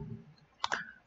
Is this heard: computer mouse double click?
yes